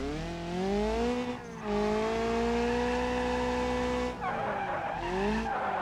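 Sustained tire squeal from a drifting car in BeamNG.drive, long tonal screeches that bend in pitch over a low engine drone, broken by two short dips.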